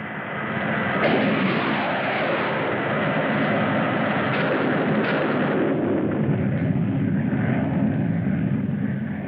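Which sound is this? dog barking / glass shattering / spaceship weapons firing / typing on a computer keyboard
spaceship weapons firing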